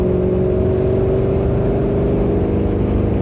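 A C5 Corvette Z06 engine roars steadily and loudly, floored in third gear, its pitch climbing slowly as it accelerates, with no voices.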